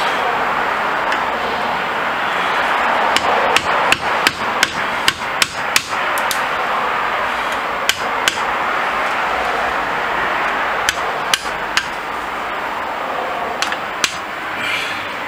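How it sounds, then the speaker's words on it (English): A hammer or mallet strikes a chisel into wood on a woodwork bench, with sharp, irregular knocks, clustered at first and then spaced out, over a steady loud background hiss. "You need a sharp chisel"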